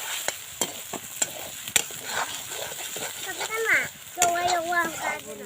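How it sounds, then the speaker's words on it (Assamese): Spice paste of ground onion, ginger and garlic frying in a pan, with sharp stirring scrapes and taps over a steady sizzle, and voices talking near the end. "এইটো মই এতিয়া ফ্ৰাই কৰি আছোঁ, ভাজি লৈছোঁ মছলাটো।"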